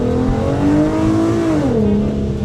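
A car accelerates hard, heard from inside through a dash cam, with a loud, smooth engine drone that climbs in pitch and then eases as it shifts.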